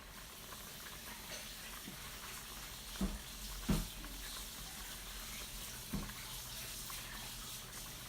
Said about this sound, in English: I like that simmer sound right there.